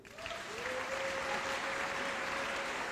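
A church congregation applauds during a French-language sermon, a dense, sustained clapping that fills the space evenly from start to end, with a faint sustained tone running underneath.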